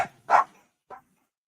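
A dog barks sharply a few times up close, two quick barks and then a softer third after a short pause.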